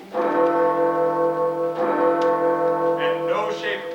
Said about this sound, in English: when the bell struck 2